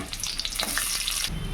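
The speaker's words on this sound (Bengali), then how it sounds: "পেঁয়াজগুলো ভাজা হয়ে গেছে" Chopped onions crackle and sizzle in hot mustard oil, close and steady, with a few stirring scrapes before the frying noise settles into a softer hiss.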